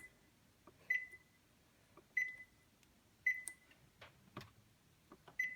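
Oven control panel beeps while being set to preheat, three sharp single beeps spaced about a second apart, with faint button taps and soft handling clicks around them in a quiet kitchen.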